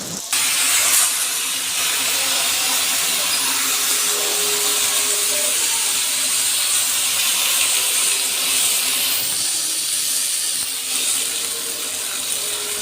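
A pressure cooker of dal and rice steams on a kitchen stove, giving a steady, loud hiss that runs unbroken for the whole stretch with faint kitchen clatter beneath.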